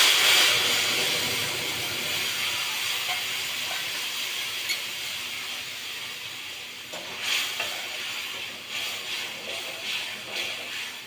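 A homemade spice mix of cumin, coriander and chili powder sizzles loudly in a hot pan of cucumber, potato and tomato curry, the frying hiss fading gradually with a few stirring scrapes toward the end.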